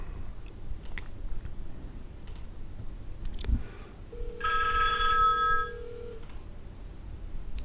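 A telephone rings during an office call setup on a hosted unified communications system, one ringing burst of about a second and a half set against steady room noise and scattered keyboard clicks.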